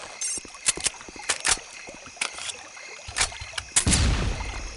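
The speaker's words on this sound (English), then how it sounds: "Who keeps throwing these flashbangs?" A flashbang grenade going off in a first-person video game: a run of sharp, loud bursts, the last and heaviest one cracking near the end with a deep low rumble behind it.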